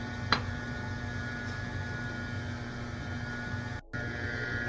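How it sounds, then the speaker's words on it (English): A steady electric stand mixer whirs at a constant pitch while beating yellow cake batter with egg yolks, a continuous motor hum with one brief click near the start and a short dropout late on. "I'm going to turn off the mixer"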